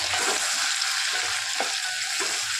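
Crushed garlic, chili, asafoetida and curry leaves fry in hot oil in a pan, a steady soft sizzle with a few faint stirring scrapes, fairly quiet and alone.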